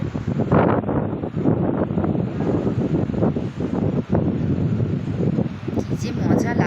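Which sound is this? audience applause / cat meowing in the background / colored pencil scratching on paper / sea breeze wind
sea breeze wind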